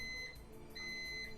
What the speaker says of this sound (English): You can hear my microwave in the background.